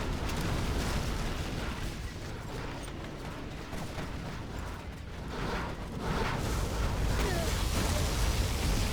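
Weapon fire and explosions in a competitive spaceship strategy match, a dense, continuous roar of blasts and mechanical clatter that swells again near the end, with faint commentary underneath.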